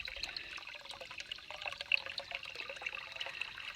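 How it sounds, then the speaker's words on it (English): Water flowing steadily from the outlet of a DIY spring box, a continuous close trickling and splashing with a bright, even wash of sound and no talk. "So now your spring will keep putting water out."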